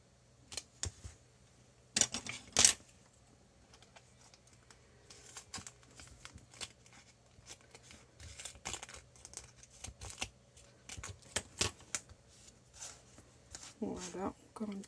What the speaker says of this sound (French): Donc je vais y mettre de l'adhésif.